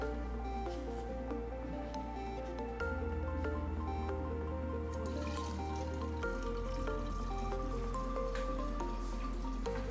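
Ethanol 96% measured out and poured: a faint liquid trickle and drip running steadily for about ten seconds over a low, constant background hum, with no talk.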